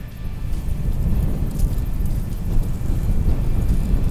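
Breezy wind buffets a high country mountain top, a steady low rumbling roar against the microphone with slight gusts and no voices.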